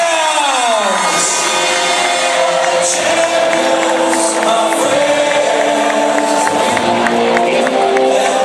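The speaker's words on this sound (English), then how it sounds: "Let's all give them a big round of applause." A crowd cheers and applauds for junior cheer champions at a cheerleading championship, loud and continuous throughout, with an announcer's voice ringing over the arena sound system.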